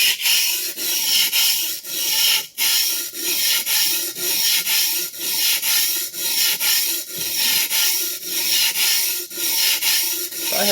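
A vintage Clyde Cutlery chef knife is stroked steadily across a sharpening stone, a close, even rasping scrape repeating about every half second with one short pause, no voices.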